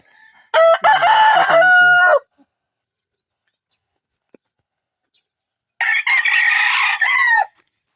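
A tornado hatch gamefowl rooster crows twice, each loud, close call lasting over a second, separated by several seconds of near silence.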